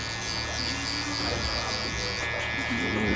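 An electric hair clipper buzzes steadily and close during a fade haircut, a constant droning hum with a faint voice murmuring underneath.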